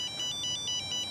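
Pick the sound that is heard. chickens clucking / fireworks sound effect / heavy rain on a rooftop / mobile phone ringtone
mobile phone ringtone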